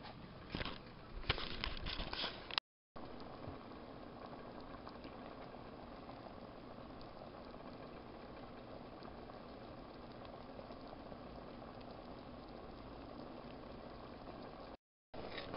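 A cheese, chicken and rice mixture boils in a pot, giving a steady, continuous bubbling hiss throughout, with some brief clattering near the start and no talking.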